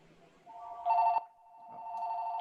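An office telephone rings with a bright electronic warble in a couple of short bursts, fairly close and clear, with a quiet room murmur underneath and no one talking.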